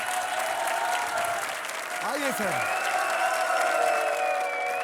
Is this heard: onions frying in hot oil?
no